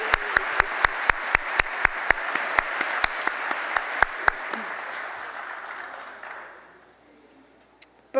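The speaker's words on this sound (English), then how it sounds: "Please join me in another round of applause for Mr. Fandry and Ms. Risinger" Steady applause fills a university medical school white coat ceremony, with dense clapping and a few sharp, prominent claps standing out, then fading away to near silence near the end.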